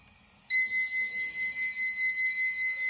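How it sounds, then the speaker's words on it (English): A high electronic gauge alarm on a car starts suddenly and beeps continuously in a rapid pulsing pattern, loud and piercing, with no talking. "You hear that loud beep? These actually have an alarm on them."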